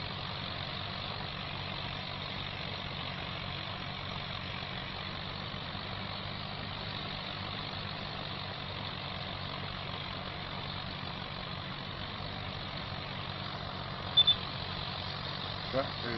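A tractor engine in Farming Simulator 25 drones steadily at a low idle throughout, a constant even hum with only a brief knock near the end and no voices.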